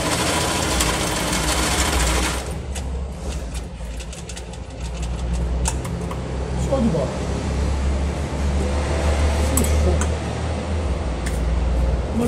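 A vintage Bobina Mágica 270 sewing machine, more than 50 years old, runs a straight stitch with a steady mechanical whirr and hum that holds throughout, close and fairly loud.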